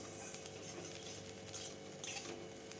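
Pointed gourd (potol) peels stirred in a pan over medium heat with salt, a soft continuous low sizzle with faint utensil scraping, quiet and close, no voices.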